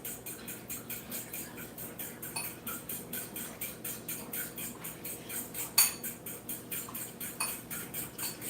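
French toast batter being whisked with a utensil in a bowl, a steady run of quick, light clinking taps against the dish, one sharper clank partway through.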